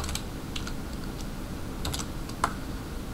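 Light clicking of keys on a computer keyboard, a few quick irregular taps close to the microphone over a steady low background hum.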